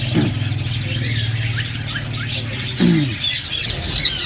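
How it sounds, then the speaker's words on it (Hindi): Caged Java sparrows at a Sunday bird market in Bahawalpur give short chirps and squeaks over a constant low hum of market noise, with scattered calls rising near and then fading. "दूसरे केज में हमारे पास जावा बर्ड्स हैं"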